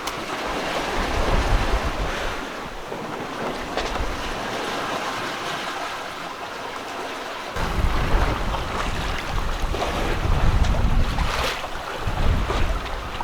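A sailboat glides offshore in the Pacific on a calm sea in light wind. Continuous wave wash and soft wind buffeting on the microphone rise and fall, with louder surges partway through and no talking.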